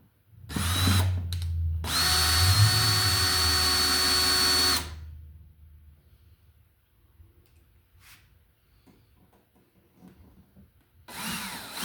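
A power drill drives screws while mounting MC cable for commercial surface wiring, with a short spin, then a steady whirring run of about three seconds, then near-quiet before another burst starts at the end.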